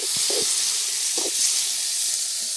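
Onion, tomato and green chili sautéing in a pan for a quail gravy give a loud, continuous sizzling hiss, with a few soft utensil knocks and stirs near the start.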